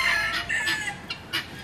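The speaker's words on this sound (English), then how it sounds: "Cock-a-doodle-doo." A bantam rooster crows nearby, loud and clear, its call rising and breaking into a few short, strained bursts with no talking.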